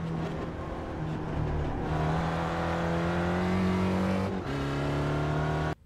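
An SRF race car engine in the iRacing video game at Interlagos drones loudly and steadily, its pitch rising and dropping with gear changes and braking. The sound is continuous and close, without talk, and cuts off abruptly at the end.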